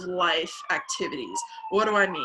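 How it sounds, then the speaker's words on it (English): An emergency vehicle siren sounds outside, a steady high tone that holds faintly under a person talking close by. "sorry for the siren, it's like totally out of my control"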